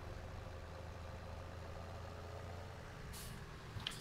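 A Challenger tractor's engine idles in Farming Simulator 17, a steady low rumble without change, with a brief hiss of air near the end.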